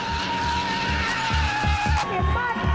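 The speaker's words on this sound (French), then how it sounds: "Ce sont des Nissan 200 avec des moteurs turbo de plus de 300 chevaux sous le capot" Turbocharged Nissan 200 sports cars, each with over 300 horsepower, drifting with tires skidding and engines revving loudly and continuously, with layered tire squeal and engine tone throughout.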